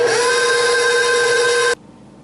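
An electric mixer beats batter for homemade whoopie pies with a steady, loud high-pitched whirring whine, then cuts off abruptly.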